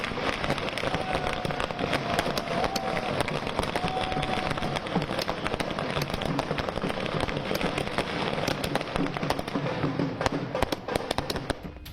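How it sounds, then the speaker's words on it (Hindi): Firecrackers burst in quick, dense crackling volleys on Delhi streets during a 2025 election-results celebration, popping continuously in a loud outdoor din. "पटाखे फोड़े जा रहे हैं सड़कों पर"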